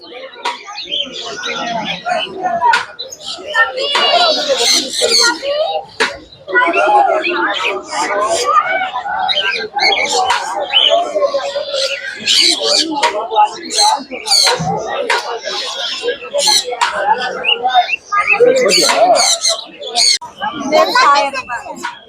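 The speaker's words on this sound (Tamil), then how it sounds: "love birds" Lovebirds chirping and twittering at a busy Sunday bird market in Mannady, Chennai, a dense, continuous mix of close bird calls under steady conversation and market chatter.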